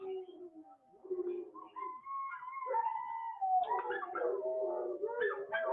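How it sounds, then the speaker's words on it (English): Dogs whine and howl in drawn-out, wavering cries, a few overlapping, at moderate distance with no other sounds. "sorry about those dogs"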